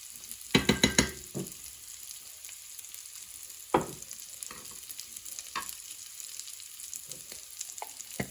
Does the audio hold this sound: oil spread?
yes